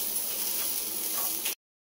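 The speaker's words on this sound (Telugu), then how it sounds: "అవన్నిటిని మంచిగా ఆయిల్లో హై ఫ్లేమ్లో కలుపుకుంటున్నాము, ఫ్రై చేస్తున్నాం లైట్గా" Green chillies sizzle in hot oil over a high flame, a steady bright hiss and crackle close up, stirred lightly, before it stops abruptly.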